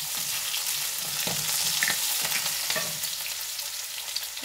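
Garlic fries lightly in a pan with a soft, constant sizzle and a few quiet stirring knocks, close and fairly low in level, with no talking.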